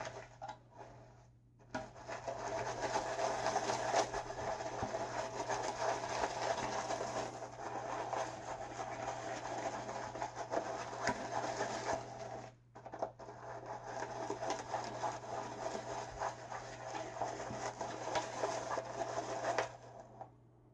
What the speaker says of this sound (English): This small brush is kind of getting lost in the big bowl here, so I'm having to, mix on one side and then move it around and mix on the other.